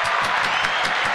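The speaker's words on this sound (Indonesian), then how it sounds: "Tepuk tangan dulu dong." Brief, steady clapping from a small audience in a podcast studio, dense and close for about a second with no voices over it.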